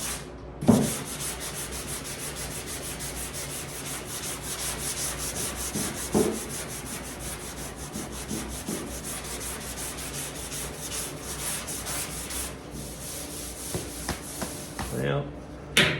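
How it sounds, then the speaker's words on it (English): Steady abrasive sanding of body filler on a car panel, a continuous close rasping scrub with rhythmic back-and-forth strokes and a few knocks, lasting throughout. "need to sand there a little bit more"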